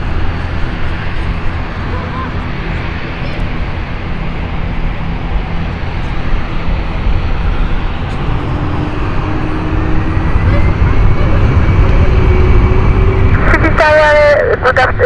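Aircraft at London City Airport heard from a distance as a broad, steady rumble that slowly swells louder, with a faint rising engine whine, while an air-traffic radio voice talks over it near the end.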